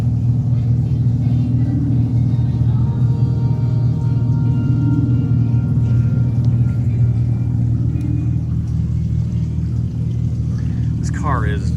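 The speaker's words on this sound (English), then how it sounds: "So you just open it up and it starts this synthetic rumbling back here." Synthetic engine rumble from the rear of a new Dodge Charger EV (R/T or Scat Pack) runs as a steady, deep droning hum throughout, with voices faintly over it.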